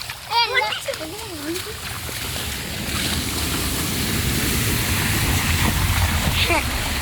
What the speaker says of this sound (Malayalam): വണ്ടികളൊക്കെ വെള്ളം ഇങ്ങനെ തെറിപ്പിക്കുമ്പോൾ ഗൈസ് നല്ല രസമാണ്